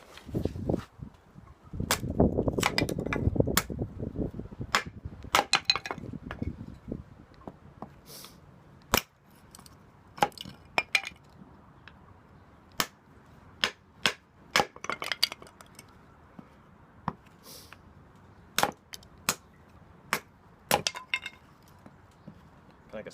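A Golok machete chops wood in a series of sharp, close knocks and cracks at an irregular pace, with rustling and handling noise between the blows.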